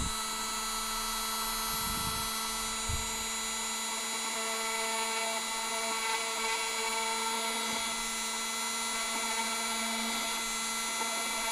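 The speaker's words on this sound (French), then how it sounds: "je vais venir essayer de percer au milieu" A power drill bores steadily through the middle of a workpiece, a continuous whine running for about twelve seconds with a few brief low knocks early on, close and alone.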